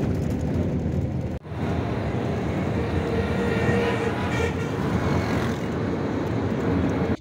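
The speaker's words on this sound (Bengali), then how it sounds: "প্রচণ্ড জোরে চলছে বাসটা।" A bus racing along at very high speed and shaking hard, filling the cabin with a continuous loud road-and-engine roar that briefly cuts out once before surging back.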